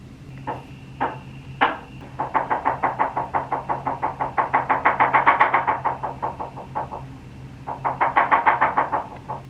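Someone pounds hard on a door with fast, rapid knocks. The bursts speed up and get louder, break off briefly, then start again, all loud and close with no voices.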